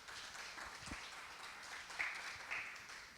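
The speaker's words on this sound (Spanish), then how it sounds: "Give a hand to the Lord." A church congregation applauds during a bilingual Spanish and English sermon, producing soft, fairly distant, continuous clapping that stays level through the moment, with no talking over it.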